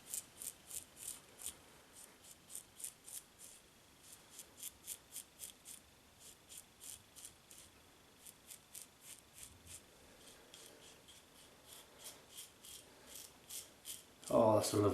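Gillette Black Beauty adjustable 1976 double-edge safety razor scraping across wet, lathered stubble on the chin and neck, a steady series of short, close rasping strokes in an even rhythm, with a louder burst of handling noise at the end.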